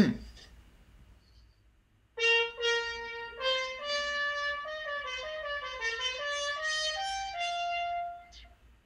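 A solo brass instrument plays a steady line of even, evenly spaced notes, clear and fairly close, after a brief quiet start.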